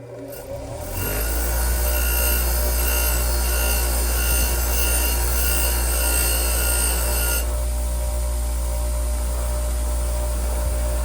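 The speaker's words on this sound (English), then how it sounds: "A little bit on the wire wheel." A wire wheel scrubbing old metal parts, a motor spinning up to a steady whine and a rough, continuous abrasive brushing that changes tone partway through, close and loud with no talking.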